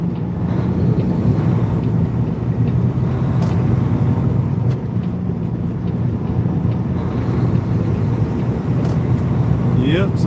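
A chemical tank truck rolling along an American road, heard from inside the cab as a steady low engine and road rumble with wind noise, continuous and loud.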